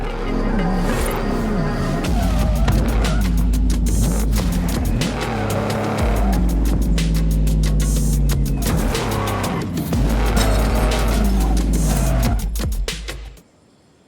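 Racing game car in Forza Horizon 5 driving continuously with a loud, steady engine drone, shifting revs and bursts of tire noise, running nearly the whole time before cutting off abruptly near the end.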